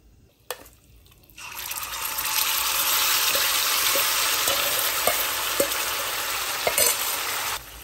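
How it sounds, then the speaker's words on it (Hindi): Marinated mutton with spices dropped into hot oil on high flame: after a quiet start and a clink, a loud, steady close sizzle swells and holds, dotted with occasional taps and crackles. "15 से 20 सेकेंड के लिए इस तरह से फ्राई करिए ताकि इसकी जो खुशबू है तेल में आ जाए"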